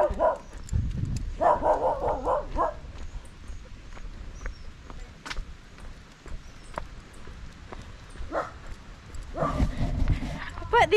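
Dogs in the rural Colombian countryside bark in short bursts and whimper, near the listener, with outdoor background noise and quiet gaps between the barks.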